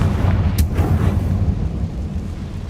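A Confringo blasting spell explodes in the video game Hogwarts Legacy, making a loud, deep rumbling boom with a sharp crack at the onset that rolls on as a sustained low roar.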